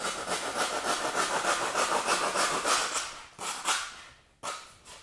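Rapid rhythmic sawing strokes cutting through a foam fish-tail form for a largemouth bass skin mount, steady and close for several seconds, then a few separate strokes with short pauses.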